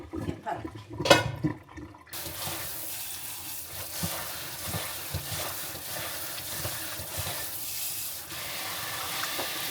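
Blanched gompi seaweed rinsed under cold running water in a kitchen: a steady close rush of water with sloshing and light handling noises, following a brief stretch of other kitchen sounds.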